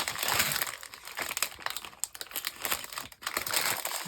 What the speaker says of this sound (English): Let's just cut round this so I can keep this in the box.